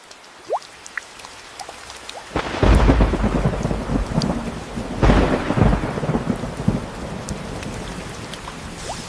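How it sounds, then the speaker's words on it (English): Heavy rain pours steadily and loudly while two deep rolls of thunder break in close together, each swelling and slowly fading under the hiss of the downpour; no voices. "We're going to pause here because it's starting to rain."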